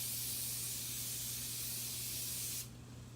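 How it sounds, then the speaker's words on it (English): A Morphe Continuous Mist setting spray hisses in one steady, close burst of fine mist that cuts off near the end, leaving a low background hum. "I think I sprayed a little too much"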